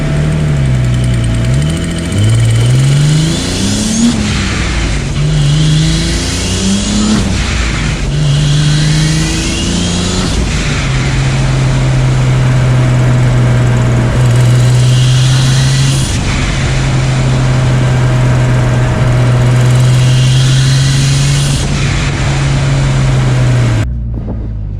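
Turbocharged M52 engine in a BMW E30 making 515 wheel horsepower, loud and close as it revs repeatedly through rising shifts, then holds a long sustained pull before cutting off.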